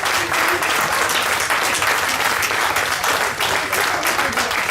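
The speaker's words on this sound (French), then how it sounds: "Vous l'applaudissez, s'il vous plaît." Audience at a country music festival in Montréal-du-Gers applauding the deputy mayor, a loud, dense, sustained burst of clapping from a large crowd with no voices above it.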